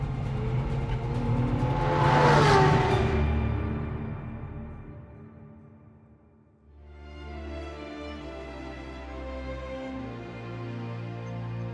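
A Ferrari LaFerrari hybrid sports car roars past close by, swelling to a loud whooshing peak and fading, then another engine rises again in a steady, revving drone.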